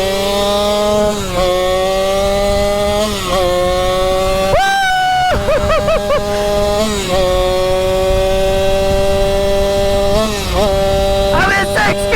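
A gas-engine Surron dirt bike revs hard nearby, its buzzing engine note rising and falling through repeated throttle and gear changes, with a brief sharp burst partway through and occasional voices over the constant loud drone.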